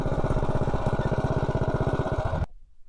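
Predator Ghost stage 2 minibike engine with a Fire 265 cam, pulling hard on a road with a rapid, loud, rhythmic chugging buzz, then cutting off abruptly near the end.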